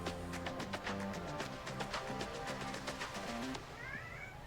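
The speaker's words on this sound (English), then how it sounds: "My cat's name is Dot. He is very talkative." Dot, a talkative male pet cat, meows indoors in a drawn-out, wavering voice against a busy backdrop of clicks and tones, ending with a brief high chirp.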